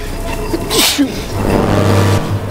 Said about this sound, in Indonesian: Setelah gagal keren akibat bersin